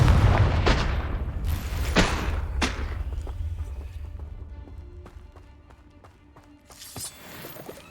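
A Confringo blasting spell explodes in Hogwarts Legacy as a few heavy booms and thuds, the first ones loud and close, then a rumbling tail that fades before one more impact near the end.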